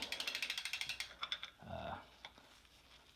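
Quiet, rapid ratchet clicks from a tool tightening a Shimano Hollowtech II bottom bracket, about fifteen even ticks in a steady run, then a brief scrape and a few scattered clicks.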